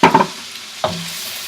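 Shrimp frying in a pan for shrimp fried rice, two quick stirring scrapes against the pan up front and another near the end over a close, steady sizzle.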